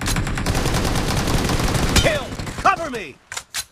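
Gunfire in PUBG Mobile: a loud, fast run of automatic shots for about two seconds, then a few scattered clanks and isolated sharp reports as the shooting tails off.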